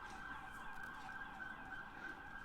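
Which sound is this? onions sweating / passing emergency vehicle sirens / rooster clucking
passing emergency vehicle sirens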